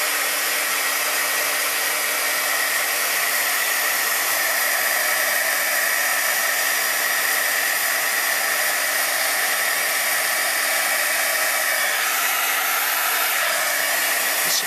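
A heat tool blows a steady, loud, hissing whoosh while heat-setting embossing on a chalkboard treat bag, holding a constant roar for about fifteen seconds with no talk.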